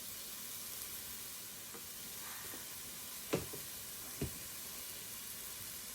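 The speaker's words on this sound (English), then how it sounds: "And continue to stir the seasonings into the mixture." Seasonings including salt, cumin, smoked paprika and red pepper flakes are stirred into sautéed vegetables in a pan, a faint steady sizzle marked by two brief utensil knocks.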